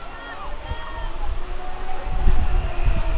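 A small amusement park train at Seabreeze Amusement Park rumbles past nearby, with squealing wheels and a low rolling rumble that grows louder toward the end.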